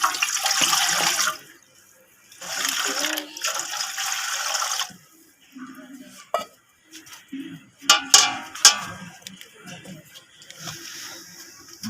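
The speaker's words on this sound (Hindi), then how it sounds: "पतीले में पानी शामिल करेंगे।" Water poured into a cooking pot for steaming marinated chicken, two splashing bursts of pouring near the start followed by quieter clinks and handling sounds of kitchen utensils.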